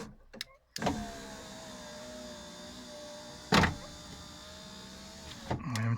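Power window motor in a car moving the glass, a steady whining hum lasting several seconds, framed by sharp clicks and thumps at the start, middle and end.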